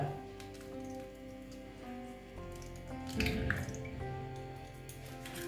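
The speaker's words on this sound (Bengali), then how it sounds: "একটা ডিম দিয়ে দিলাম তারপরে দেখো আরেকটা ডিম দিয়ে দিলাম" A raw egg drops into a bowl with one soft, wet squish and drip midway through a quiet stretch of faint kitchen noise.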